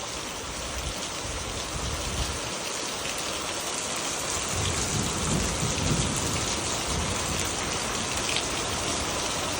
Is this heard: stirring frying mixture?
no